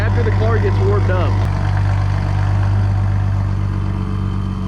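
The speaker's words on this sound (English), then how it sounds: "the car is basically fully straight piped, and once it's warmed up, it's pretty much as quiet as it was stock." Straight-piped MK5 Toyota Supra idling when warm, a steady low engine drone with a strong hum, fairly quiet and even, while a voice speaks briefly at the start.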